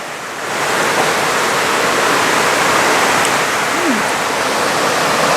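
Heavy rain pours steadily and loudly outdoors, a dense continuous hiss that swells in after the first half second and holds evenly throughout, with no talking.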